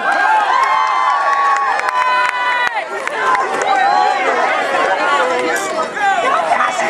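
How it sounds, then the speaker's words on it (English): A crowd cheers, shouts and chatters excitedly during a peanut push race at a Christmas charity event, with overlapping voices and whoops rising and falling continuously. "Crowd, you need to cheer them on."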